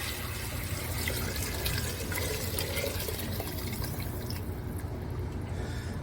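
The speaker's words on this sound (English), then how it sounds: "And we're going to add some water." Water pours steadily into a bean pot of pinto beans, a continuous close splashing and trickling that stays even for several seconds before easing slightly.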